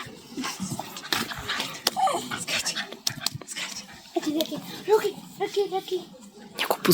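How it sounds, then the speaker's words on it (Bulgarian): Dogs pant and whimper at a campsite at Beglika, close, fast panting with high whines scattered through, while people talk over them. "Има много кучета."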